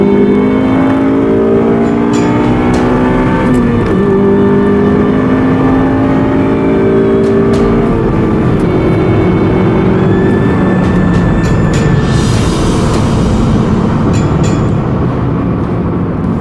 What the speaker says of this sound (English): I'm in 3rd gear here and I'm going to get VTEC to kick in and you will know when it does